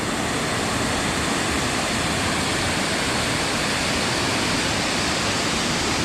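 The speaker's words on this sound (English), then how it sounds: "So I'm gonna come down there and take a look at this waterfall." Waterfall along a brook trail beside an old trestle and man-made channel, a constant loud rushing roar of falling water close by, steady and unbroken throughout with no talking.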